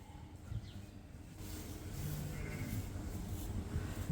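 Sheep, Dorsets among them, bleating faintly inside a barn over a low, steady background rumble.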